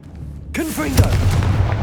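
A Confringo explosive spell in the Hogwarts Legacy video game, fired as a loud, sudden blast followed by descending whooshing streaks and a sustained rumbling burst, with a voice briefly heard alongside.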